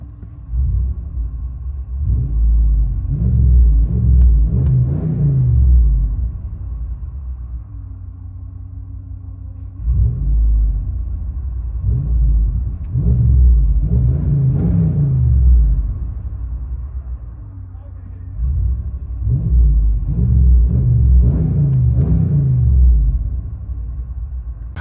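Inside the cabin of a 2022 RAM 2500 Power Wagon, the 6.4L Hemi V8 with a Flowmaster Outlaw muffler rumbles deeply. Three loud surges of revving swell and fade back to a lower idle burble, with no talking.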